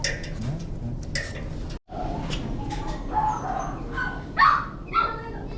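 Many dogs at an abandoned-dog shelter in Yeoju, South Korea, bark, yip and whimper in overlapping bursts, some close and some farther off, with faint background commotion throughout.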